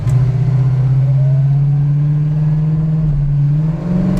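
A loud 1965 Ford Mustang engine drones steadily through its mufflers, its low rumbling pitch rising gradually as the car accelerates, then dipping briefly near the end.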